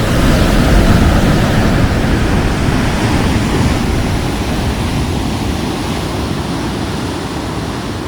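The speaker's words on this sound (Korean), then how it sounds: "진짜 파도 어떻게 한 번에 크게 치지?" Big East Sea waves crash near a suspension bridge at Donghae, a loud continuous roar of surf and spray filling the whole stretch and easing only slightly toward the end.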